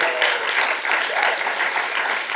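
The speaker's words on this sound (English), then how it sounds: "You can clap for me." Audience applause at the close of an art lecture, a steady dense clatter of many hands clapping throughout, fairly loud and continuous with no pauses.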